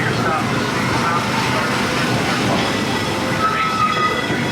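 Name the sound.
Disneyland Railroad train riding along the tracks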